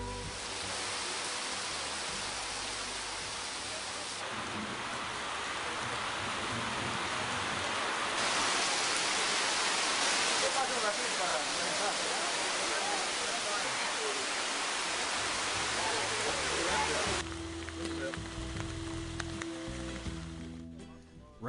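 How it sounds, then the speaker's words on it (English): Heavy afternoon downpour in the Amazon jungle near a canopy walk, a steady dense hiss of rain filling the whole stretch, with a brief shift in texture near the end. "the afternoon rain is a downpour."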